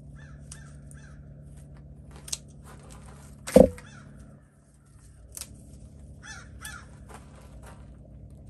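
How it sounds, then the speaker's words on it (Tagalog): Crows caw outdoors, with several scattered calls at mid distance and one loud, harsh caw standing out above a low background hum. "Madaming mga uwak."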